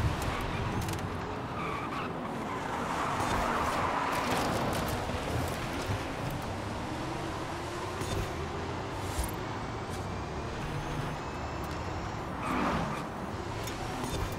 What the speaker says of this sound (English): I braked a little bit more than I should have.